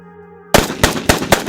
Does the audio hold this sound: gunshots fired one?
yes